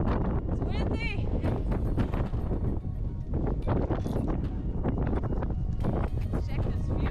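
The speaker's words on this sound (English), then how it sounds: "Storm is coming." Strong wind buffets the microphone in a constant loud roar before a storm in Death Valley, with a voice speaking intermittently over the gusts.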